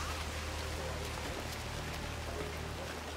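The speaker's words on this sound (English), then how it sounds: "rain, rain, nothing but rain." Steady rain falls as a dense, even hiss throughout the Hitman 3 game scene in Chongqing, China, with faint voices underneath.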